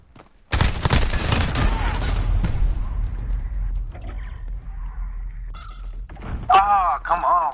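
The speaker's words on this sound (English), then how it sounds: "Oh, he had a sniper. Or no, it's an AK." AK rifle gunfire in Call of Duty: Modern Warfare beta multiplayer, a sudden loud burst of shots with heavy thuds and crackling that fades into rumble, followed by louder game effects near the end.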